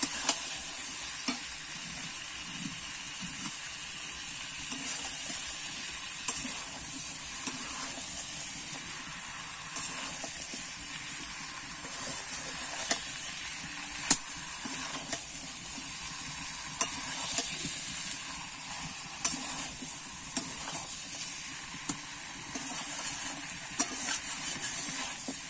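Chicken and chopped tomatoes fry in a pan with a continuous hissing sizzle and steady scraping of the stirring spoon, close and moderately loud throughout.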